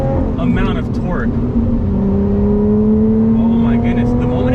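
Lotus Evora GT accelerating hard in race mode, engine note climbing steadily with a rising supercharger whine, heard from inside the cabin while someone talks excitedly over it.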